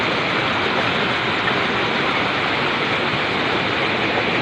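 Devkund waterfall pours in a loud, unbroken roar of rushing water. The broad, steady wash of noise holds close and constant throughout, with no voices over it.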